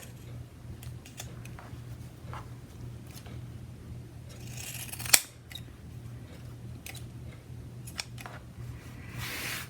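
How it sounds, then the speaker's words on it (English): Scissors snipping the fabric corners of a flat-front face mask, a few sparse quiet cuts over a low hum, with one sharper clipped snap midway. "we want to cut across the corners here so it will lay nice"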